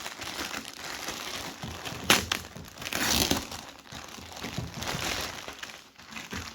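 Plastic bag crinkling and crumpling close by as a heated vest is unpacked, irregular rustles rising and falling with a couple of sharper crackles, no talking.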